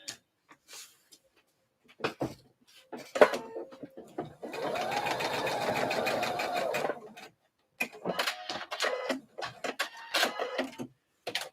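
A home sewing machine stitching a slip dress whirs steadily for about three seconds in the middle, bracketed by scattered clicks, taps and handling noises before and after.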